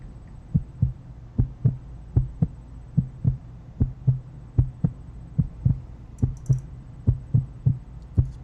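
A steady heartbeat sound effect thumps in a slow, even double-beat rhythm over a low hum, regular pulses repeating throughout with a faint high blip near the end.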